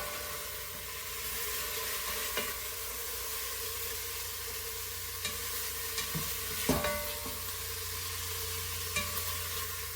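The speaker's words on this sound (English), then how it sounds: "I'm going to add it in with vegetables so everything kind of cooks and sears up together." Kielbasa, vegetables and beef sear together in a pan for steak stew, giving a steady, fairly quiet broadband sizzle with a few faint clinks and scrapes, no voices.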